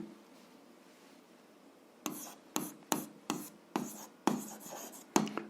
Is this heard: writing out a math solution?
yes